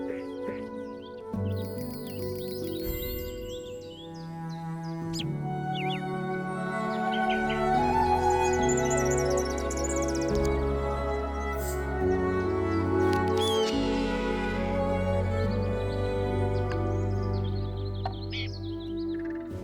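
Bird calls from the video game Wingspan: bright chirps and tweets scattered over a gentle, continuous musical score, moderately loud and steady throughout.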